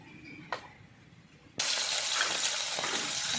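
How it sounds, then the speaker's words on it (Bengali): Tilapia fish lowered into hot oil in a wok, where a sudden loud, steady sizzle bursts up after a quiet moment and a light clink, then keeps going at full strength. "মাছ দিয়ে দেবো এক এক করে কড়াইতে।"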